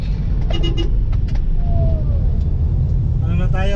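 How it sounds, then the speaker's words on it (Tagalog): Road traffic on a city street in the Davao region of Mindanao, Philippines, makes a steady, loud engine rumble close by. Brief voices and a faint rising whine come through over the continuous vehicle noise. "Ito na yung lugar ninyong traffic."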